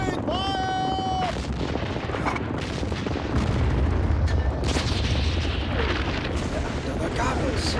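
Artillery guns firing on a desert battlefield, heavy booms and blasts layered over shouting voices and chaotic battle noise, loud and dense for the whole stretch.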